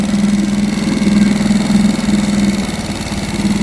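A small DIY draw-start boat engine idles steadily up close, a loud, even, throbbing mechanical hum with a slight rhythmic pulse and no talk over it.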